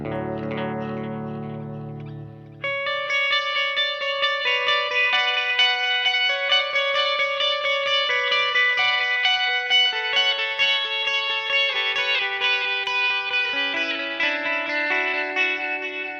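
Sustained electric guitar notes and chords run through a Line 6 DL4 MKII delay pedal, shimmering with echo and repeats that overlap and hang into one another, played alone with no talking.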